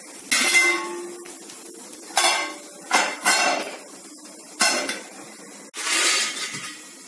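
Metal lid set down and clattered shut over a dosa cooking on a hot pan, a series of sharp metallic clanks and rattles close by, with pauses between the knocks.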